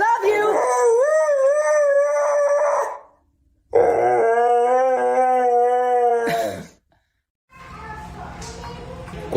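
A dog howls nearby in two long, wavering, high-pitched howls with a short pause between them, followed by quieter background rustling.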